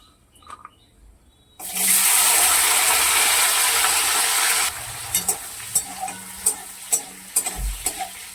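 Soaked cashews and raisins drop into hot oil mixed with ghee and burst into a loud, sudden sizzle. The hiss eases after a few seconds into lighter frying broken by repeated sharp stirring clicks.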